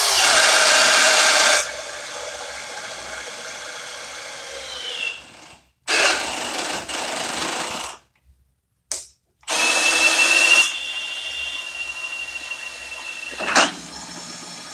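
Milwaukee M18 Fuel Gen3 hammer drill and Ryobi 18v One+ cordless drill boring into wood, loud sustained motor whine and grinding in long bursts with short pauses, ending with a sharp catch.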